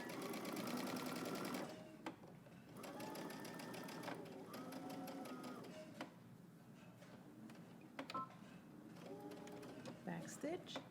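A home sewing machine stitches a dress seam in short, rapid bursts with brief pauses between them, while someone talks over the whirring.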